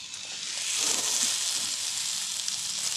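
Cheeseburgers fry in a cheap pan at a wild camp, giving a steady, soft hiss of sizzling fat that swells slightly and holds without pauses.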